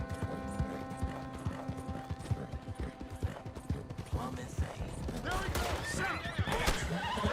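Hoofbeats clip-clop steadily with a horse neighing in Red Dead Redemption 2, amid busy game sounds; a sharp burst near the end could be gunfire.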